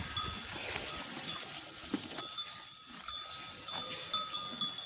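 Cows wearing cowbells, clanking in a fast, uneven rhythm of repeated metallic rings close by, with no talk.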